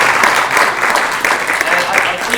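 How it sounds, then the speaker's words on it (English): Loud, dense applause from a conference audience for a panel, sustained and close throughout with a few faint voices mixed in. "just a round of applause again for this incredible panel"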